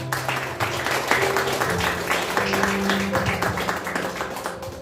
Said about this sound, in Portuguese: Vamos receber o pastor com as palmas?